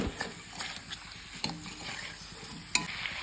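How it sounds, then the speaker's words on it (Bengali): Ground cumin, coriander and Kashmiri chilli powder sautéing in a pan, a soft sizzle broken by several scraping stirs and clicks of a utensil against the pan, fairly quiet and close, with no voices. "জিরে গুঁড়ি সামান্য ধনে গুঁড়ি কাশ্মীরি লঙ্কার গুঁড়ো এবার আমি এটা ভালো করে কষিয়ে নেব"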